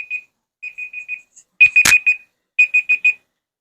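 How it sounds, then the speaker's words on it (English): A kitchen timer beeps while food is being grilled. Its loud, close electronic beeps come in quick bursts of three or four, broken by short pauses, with a brief rustle in the middle. "I shut that timer off 3 times."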